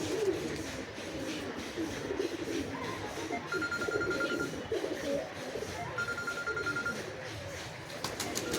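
Giribaz pigeons coo softly amid a steady busy background, low murmuring calls continuing throughout with a thin tone appearing twice, and faint talk nearby.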